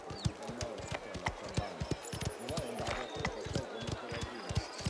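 Horse hooves clip-clop steadily in the video game Mafia: Terra Madre, a dense run of hoof strikes close by with voices talking over them.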